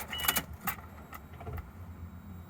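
Car keys jangle and click as they go into the ignition of a Subaru WRX with a GC8/GF8 engine swap: a few quick metallic rattles up close, then a quiet cabin with faint low hum.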